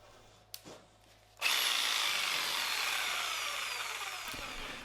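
A power drill pre-drills holes in plywood for a large round shield, starting after a couple of faint knocks with a loud, sustained whirring bite into the wood that winds down near the end.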